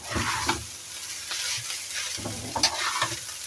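Fried rice with egg being stirred in a hot pan, repeated scraping strokes of the utensil over a steady close sizzle, with no talking.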